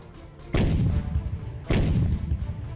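Artillery fire in the war-torn industrial city of Kostiantynivka, Ukraine: two heavy booming blasts about a second apart, each a sharp loud crack followed by a rolling rumble that lingers.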